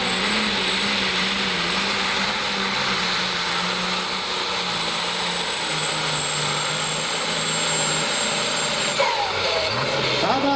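An Allis Chalmers pulling tractor with a 426 six-cylinder and four turbos roars steadily at a tractor pull, a loud sustained engine drone topped by a thin high turbo whine.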